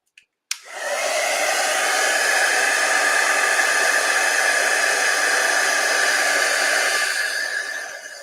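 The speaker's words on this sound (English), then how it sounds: "So we'll just go again with the heat tool." An embossing heat tool blows hot air over embossing powder on an envelope, starting with a click and then a loud, steady, close hair-dryer-like roar that holds for several seconds before easing off, with no talk.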